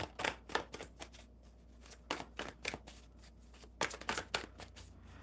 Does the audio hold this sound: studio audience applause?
no